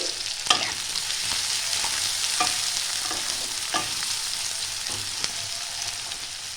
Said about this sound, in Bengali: পেঁয়াজগুলো একটু ভালো করে ভাজা হবে।